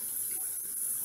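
A can of water poured into a casserole dish, a steady continuous splashing trickle of liquid lasting about a second.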